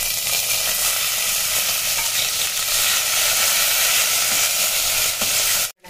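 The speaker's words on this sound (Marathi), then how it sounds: "आपण 4-5 पानं कढीपत्त्याची टाकणार आहोत। त्यातच आपण हा बारीक चिरलेला बटाटा टाकणार आहोत।" Curry leaves and finely chopped potato sizzle steadily in a frying pan, a dense, even crackle close up that holds for nearly six seconds before cutting off abruptly.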